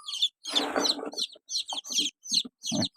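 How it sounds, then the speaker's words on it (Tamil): White chicken chicks lifted out of a brooder give short, high clucks and peeps in scattered bursts, close and clear, with a rustle of handling beneath the first calls. "இந்த குண்டுக்குள்ளே தான் பதினஞ்சு நாள் வரைக்கும் குஞ்சு விட்டு வளர்ப்போம் நம்ம குஞ்சுகளை எடுத்து வரும் பார்க்கலாம்"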